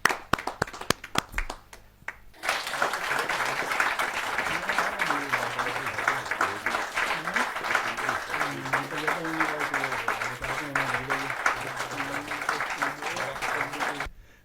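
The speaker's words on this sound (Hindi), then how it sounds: "या जोरदार तालियों के साथ हम स्वागत।" Loud, sustained audience applause welcomes a poet at a Hindi kavi sammelan poetry gathering, following a few scattered early claps; a voice talks over the clapping throughout.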